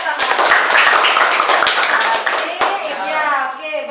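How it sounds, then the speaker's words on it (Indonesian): Children in a classroom clapping their hands together, a loud, close burst of rapid, overlapping claps that sustains for about three seconds before tapering off, with young voices mixed in. "Tepuk tangan."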